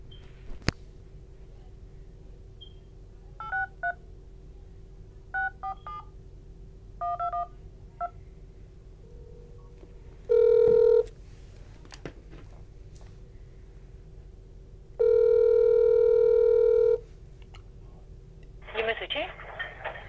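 A prank call starts with a short series of touch-tone dialing beeps over a steady line hum, then two long ringback tones, the second lasting about two seconds, before a burst of noise at the end.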